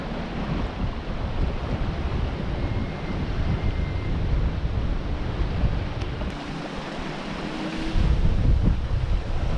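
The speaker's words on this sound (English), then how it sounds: "Wind's down to 17 knots and everything feels calmer on this side of Kilmore Point" Wind gusts across the microphone while a sailboat moves single-handed off Kilmore Point on the Irish coast, with waves washing and surging around the hull in a continuous loud roar and no one speaking.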